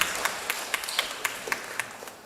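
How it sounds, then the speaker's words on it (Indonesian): An audience claps in a light, scattered way at a formal inauguration ceremony in Cileungrang, Bandung, with sharp, fairly sparse claps spaced across the moment. "Tepuk tangan untuk semuanya."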